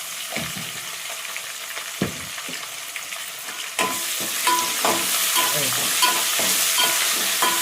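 Ginger and garlic fry in a pan with a rising sizzle that grows louder midway, as a spoon repeatedly scrapes and knocks against the pan in an irregular stirring rhythm.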